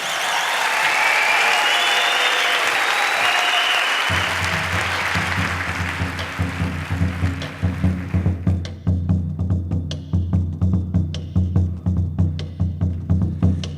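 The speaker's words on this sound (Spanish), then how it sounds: "Un fuerte aplauso para ellos" Applause from an audience at a public award event for Asturiana Mining Company, a broad crowd roar at first, then giving way to a band playing with a strong rhythmic beat and faint voices.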